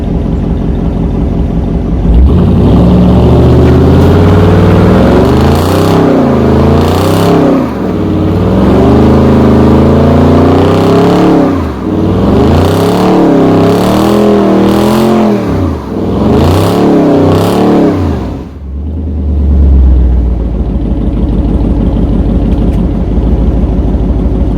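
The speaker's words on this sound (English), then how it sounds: "I think we had a proper burnout on this thing" A Dodge Challenger with an automatic transmission and rear-wheel drive does a burnout, its engine revving hard in repeated rising and falling surges for about twenty seconds before dropping to a low idle.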